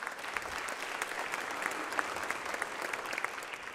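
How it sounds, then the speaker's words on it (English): Audience applause at a mixing masterclass for rock drums, sustained dense clapping from a crowd with no break, heard from within the room. "So big round of applause for Steinberg"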